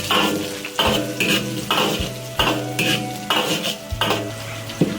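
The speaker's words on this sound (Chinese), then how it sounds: "下姜蒜米、大葱。 用小火爆出香味" Ginger, garlic and scallion stir-fried in hot oil in a wok over low heat, with a steady close sizzle and repeated scraping, clanking spatula strokes against the metal pan.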